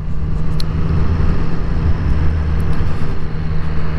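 A Triumph Street Triple RS motorcycle engine while riding: a loud, steady, continuous drone with rushing wind, sustained throughout without breaks or speech.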